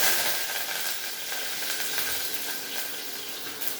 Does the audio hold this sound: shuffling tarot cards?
no